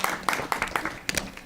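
Scattered clapping from an audience at a school board meeting after a vote, a few uneven, sparse claps rather than full applause, fairly close and moderately loud.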